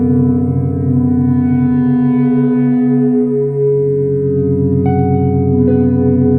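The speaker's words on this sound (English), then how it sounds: "combine it with some fuzz and really dampen the tone to create a very sterile sounding boop that I volume swelled intermittently throughout the piece" EBow-driven guitar through fuzz with the tone heavily dampened, holding a sterile, smooth sustained boop at steady loud level, with a couple of brief swells and shifts near the end.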